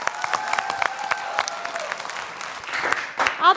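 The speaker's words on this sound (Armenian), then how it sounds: "Ծափարում եւ ճանապարհում ենք վաճեին։" A studio audience applauds a contestant at a folk-singer television contest gala: dense, steady clapping lasts a few seconds, with brief tonal music lines at the start and a swell of louder clapping near the end.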